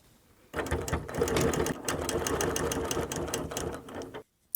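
A sewing machine stitching a quilt seam runs in a fast, steady mechanical whir for about four seconds, close and continuous, then stops abruptly with a small click.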